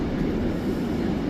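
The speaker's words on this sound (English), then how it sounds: "he had to put the loco in much more higher power there to pull the train out" A class 68 diesel locomotive hauls a train out of a station under heavy power, a continuous close rumbling drone with a faint rail squeal and no voices.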